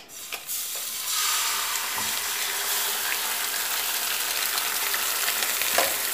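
Eggs dropped into a hot pan, with a couple of soft knocks and then a loud, dense, steady frying sizzle that continues to the end.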